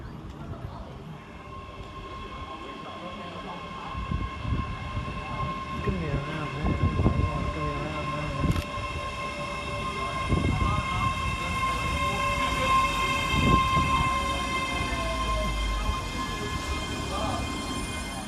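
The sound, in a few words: Scotrail class 385 train arriving at Polmont station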